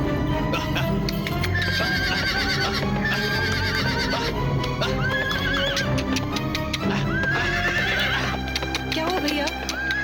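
A horse neighs and whinnies repeatedly amid the clip-clop of hooves, loud and close, in a Hindi horror drama, with background music and ambience throughout.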